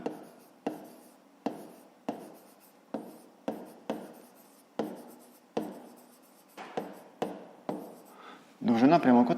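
A pen writes by hand on paper during a fifth-grade maths problem, a run of about a dozen quick, crisp strokes close by, followed at the end by a short burst of speech.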